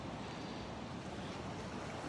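A river rushes in a steady broadband wash on a rainy day in the Pacific Northwest woods, continuous and even, fairly faint with no voices.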